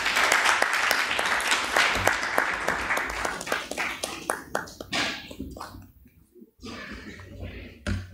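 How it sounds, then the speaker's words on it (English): A crowd applauds at a press briefing by a government minister, steady dense clapping that thins toward the end into scattered claps, fairly loud and close. "can we give him another round of applause?"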